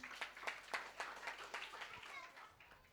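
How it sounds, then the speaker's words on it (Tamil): A Sunday school Christmas party crowd at a church claps in a steady burst of many hands, dense and fairly close, with children's voices mixed in underneath. "நல்லா கிளாப் பண்ணுங்களேன். நல்லா கிளாப் பண்ணுங்க."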